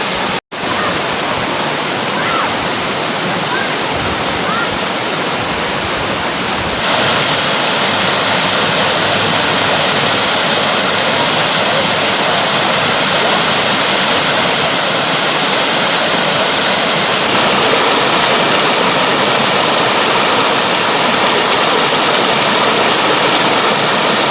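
A river in steady, loud flow, with continuous broadband rushing water like a small waterfall or fast stream running throughout, close and unbroken, with no voices.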